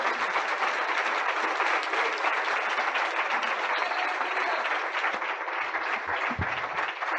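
Sustained applause from a church congregation, a dense, steady wash of clapping filling the room for several seconds, close and loud, thinning slightly toward the end.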